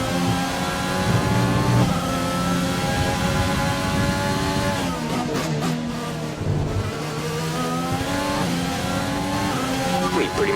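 Formula 1 race car engine in F1 2020 racing game, a continuous loud high-pitched whine that rises and falls with gear changes through the whole stretch.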